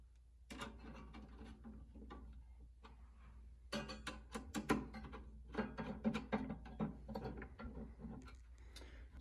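Screws tightened during installation of an Engineered Fluids S19J Pro immersion kit for PC hardware: a series of quiet, irregular ratcheting clicks and ticks, close and faint, with no talk.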